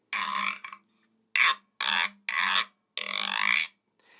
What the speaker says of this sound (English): And the Reco Reco sounds like this.